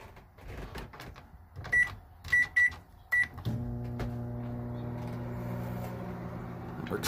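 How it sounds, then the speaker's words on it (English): Microwave oven in a 1999 Rockwood camper takes several keypad beeps, then starts running with a steady, fairly quiet hum that continues to the end. "Microwave."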